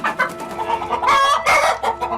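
Red hen, a Rhode Island Red or crossbred red, clucking close by in a steady run of short calls that rise into a louder, drawn-out squawk near the end.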